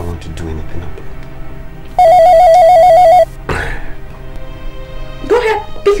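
A telephone rings with a loud warbling electronic trill lasting over a second, set between stretches of people talking and other scene sounds.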